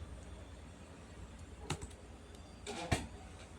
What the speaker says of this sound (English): Let me type